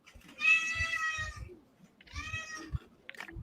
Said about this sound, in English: sounds like a hungry kitty cat.